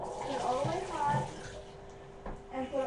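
Hot water runs from a shower in a steady, soft hiss that stays under a person talking throughout.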